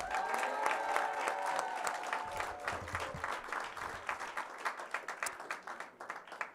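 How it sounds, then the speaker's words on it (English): Warm, sustained applause from a graduation ceremony audience for the 2022 graduates, dense at first then thinning into scattered individual claps, with a faint musical tone early on. "let's give a massive round of applause to our 2022 graduates"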